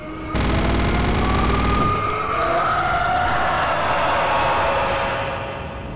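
Gatling gun firing in a Wolfenstein video game, a loud unbroken burst of rapid shots lasting over a second, followed by a roaring game soundscape with rising tonal whines.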